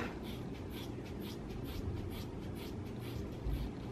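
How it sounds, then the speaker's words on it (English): Scissors snip through hair as a person cuts their own hair at home, giving a steady, close run of quick scratchy snips about four per second, with no voices. "I'm just gonna chop it right above"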